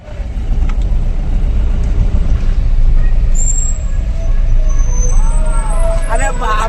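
A tempo truck rumbles past on a highway near Diva village, Bhiwandi, during a procession, with heavy low engine and road noise throughout and a few brief horn-like tones near the end; voices chatter nearby over the traffic.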